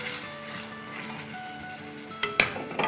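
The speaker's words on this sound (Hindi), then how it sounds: "इसको भूनेंगे" Chopped tomato frying in a pan with steady soft sizzling, then a few sharp utensil scrapes and clinks against the pan near the end as it is stirred, close by, no voices.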